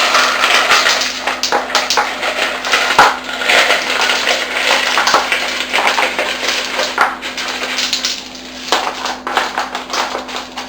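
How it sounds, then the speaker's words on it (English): Ice is poured over sliced pickles for bread and butter pickles in a home kitchen, making a continuous loud, crunchy clatter of cubes tumbling and knocking against each other and the container for about ten seconds. "Then you cover it with ice."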